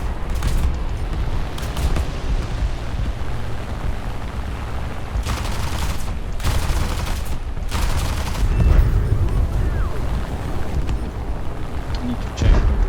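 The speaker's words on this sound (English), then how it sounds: "Audacity of the tail gun to still shoot at us while he should be busy bailing out." In a Wake Island campaign video game, an aircraft tail gun fires in several dense bursts over a constant roaring engine drone, with booming rattles rising and falling across the clip.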